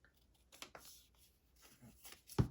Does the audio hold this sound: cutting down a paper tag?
yes